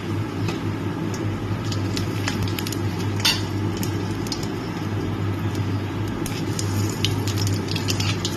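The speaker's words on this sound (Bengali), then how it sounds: "সামান্য একটু তেল দিয়ে আমি ফোড়নটা দিয়ে দিচ্ছি জিরে তেজপাতা আর আর্ধেক শুকনো লঙ্কা" Cumin seeds, bay leaf and half a dried red chili fry in a little hot oil, a steady, close, loud sizzle with small scattered pops and occasional utensil taps, no talking.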